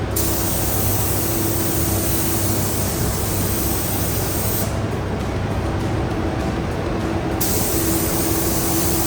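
Spray paint being applied in coats to a custom helmet, a loud continuous hiss up close with a short pause midway before the spraying resumes.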